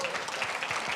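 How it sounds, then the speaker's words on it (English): A brief burst of audience clapping at an education talk, a soft steady patter lasting about a second. "A round of applause for Hedy Lamarr."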